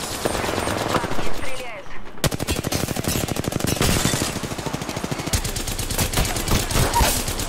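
Rapid bursts of automatic gunfire crackle through a shooter video game, with dense rattling volleys in sustained stretches and a brief lull, under occasional game noise.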